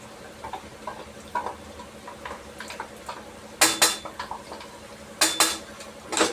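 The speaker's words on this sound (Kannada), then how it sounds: "ಇವಾಗ ರುಬ್ಬಿರೋ ಖಾರ ಹಾಕ್ತಾಯಿದ್ದೀನಿ" Ground chili paste going into chicken cooking in a pan, with soft scraping and a few sharp metal clinks of a spoon against the pan, two louder clanks near the end, close by and without talk.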